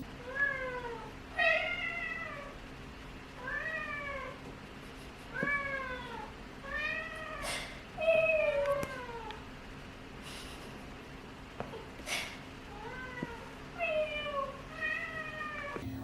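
A Ragdoll cat meows repeatedly indoors, a series of clear, rising-and-falling calls spaced every second or two, fairly close, with a faint steady hum underneath.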